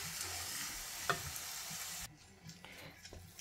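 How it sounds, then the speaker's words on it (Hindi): Mashed potatoes with garlic, salt and red chili stirred and fried in a pan on a stove, a steady close sizzle with scraping stirs that drops sharply quieter partway through, occasional soft clicks after. "अब मैं जो पोटैटोस मैंने मैश करके रखे हुए हैं वो मिक्स करके भून रही हूँ"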